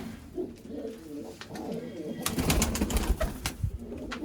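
Pigeons coo in low, throaty murmurs, then louder rustling and fluttering sounds join in, busy and close.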